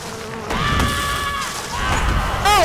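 Bees buzzing in The Lord of the Rings Online, a droning hum that rises and wavers for a couple of seconds amid game noise, fairly loud and close.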